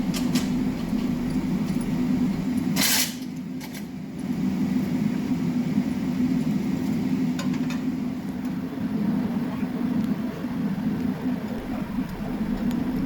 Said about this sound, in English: The noise you hear in the background is propane heater running.